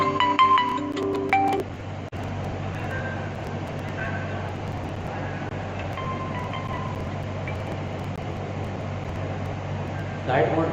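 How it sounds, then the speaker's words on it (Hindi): A mobile phone rings with an incoming call, a short run of bright electronic ringtone notes at the start, then a steady low hum as people talk in a room. "ये शायद फोन आ रहा है, जरा हटा दो"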